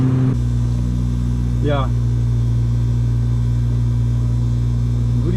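A VW Golf V with a 2.5 five-cylinder turbo engine cruising on the Autobahn, a loud constant low drone of engine and road rumble filling the cabin, with a brief spoken word at the start.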